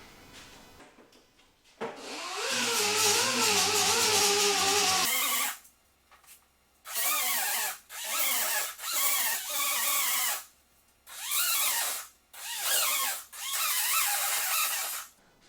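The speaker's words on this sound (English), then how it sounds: "I've got those all kind of filed off or sanded off, I guess, just to get rid of those sharp edges." Power sander or rotary tool smoothing off sharp edges on parts of a limo golf cart during a rebuild, running in a long steady burst then several shorter pulses of grinding, close and loud with no talk.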